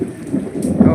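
Thunder rolls low and heavy through a village rainstorm, a deep rumble swelling toward the end over the patter of rain, with no voices.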